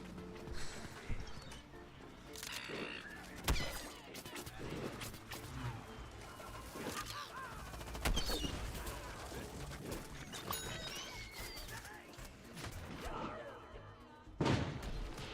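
Fireworks going off outside near a cluster of fireworks stands: faint, distant irregular pops and crackles with a few sharper bangs standing out against a low background rumble.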